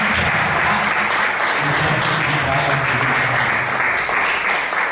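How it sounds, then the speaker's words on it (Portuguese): Church congregation during a sermon gives strong, sustained applause for Jesus Christ, dense continuous clapping at even loudness with faint voices mixed underneath. "Essas palmas foi para mim, agora uma bem forte para Jesus Cristo."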